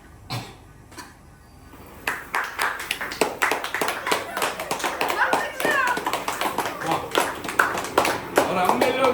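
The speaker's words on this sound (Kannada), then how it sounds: "ಕ್ಲಾಪ್ಸ್" Children clap their hands indoors in uneven bursts of sharp slaps, coming close and loud, mixed with children and an adult talking and a few coughs after a quieter start.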